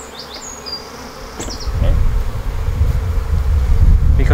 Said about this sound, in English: I have a potential for bees getting cross with me